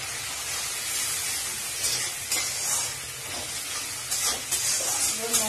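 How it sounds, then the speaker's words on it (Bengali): A spice mixture of turmeric, chilli and cumin powder sizzles and fries in a pan while being stirred, with a steady hiss broken by repeated scraping bursts of the spoon. "মশলাটাকে ভালো করে নাড়াচাড়া করে একটা জল দেব।"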